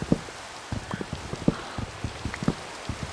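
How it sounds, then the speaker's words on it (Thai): Rain falls in the Minecraft video game, heard as a soft background wash broken by frequent close, irregular drop-like taps, with no one speaking. "ตอนนี้ฝนก็ตกแล้วเนี่ย ฝนตกนี่จะแหลกด้วยเนี่ย"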